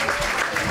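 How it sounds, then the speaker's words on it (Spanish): Audience applause for dancers at a Noche de San Juan folk celebration in Chiloé, a brief, dense burst of clapping heard close. "un aplauso más fuerte para los bailarines"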